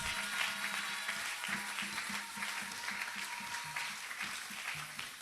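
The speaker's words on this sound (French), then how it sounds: "Acclamez, acclamez fortement." A church congregation applauds loudly throughout, with a dense, continuous wash of clapping hands and a voice speaking under the applause.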